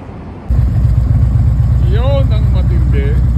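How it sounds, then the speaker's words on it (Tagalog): Motorcycles idling before a group ride toward the Saudi border: a loud, steady low engine rumble starts abruptly and holds, with someone talking over it. "Ito, aming mga motor."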